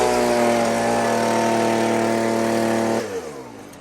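A gasoline leaf blower engine, its carburetor newly adjusted, runs steadily at high speed with a loud, buzzing two-stroke drone. At about three seconds it cuts back sharply and fades toward idle.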